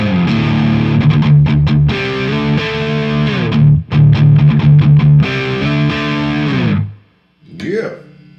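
Electric guitar on the bridge pickup through the dirty channel of a Victory The Jack 180W hybrid amp plays loud distorted riffs and sustained chords with brief stops, ending in a fading ring and a short squeal.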